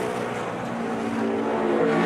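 A NASCAR stock car on a 2013 qualifying lap roars steadily at high revs, a loud continuous engine drone with no voices over it.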